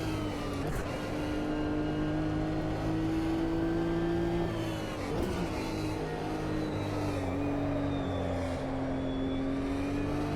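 A race car engine in Automobilista 2 during Nürburgring practice holds a steady, fairly quiet drone with gentle pitch rises and dips as the revs shift, alone without talk.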